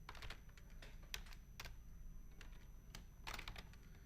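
Quiet keystrokes typed on a computer keyboard while working in MS Word, coming in short uneven bursts and isolated clicks over a low steady room hum, with no talking.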